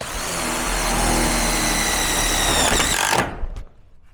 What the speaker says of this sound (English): we're going to continue putting in the screws on this piece